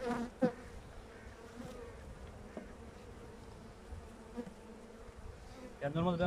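Honey bees hum in a steady, faint, close drone during a hive inspection, with a few brief handling knocks at the start and a louder rustle near the end.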